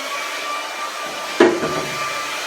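A hair dryer blows over wet acrylic paint on a canvas, a steady close whooshing drone with a brief knock partway through and no talk.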